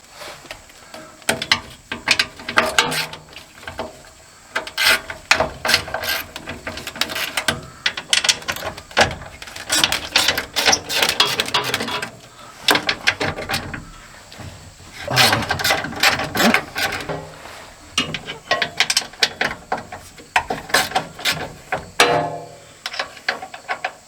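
A ratchet wrench works the carriage bolts out of an electric step, giving bursts of rapid, close metallic clicking in repeated runs with short pauses between them.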